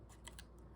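Pinking shears snipping through fabric leaves for a doll's flower crown, a few quick crisp close cuts in a quiet room.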